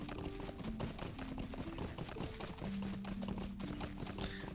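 Horse hooves clip-clop at a steady riding gait in the Lord of the Rings Online video game, a close, regular rhythm of hoof beats over soft game music tones.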